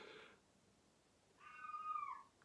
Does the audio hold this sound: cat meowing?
yes